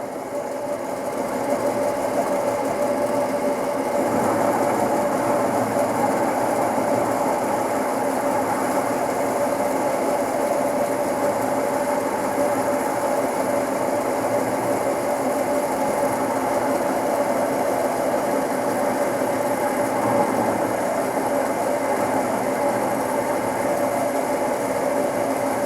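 A lathe taper turning a workpiece, the tool fed at an angle by the cross slide, gives a steady continuous mechanical hum and whine with an even drone and no talk over it.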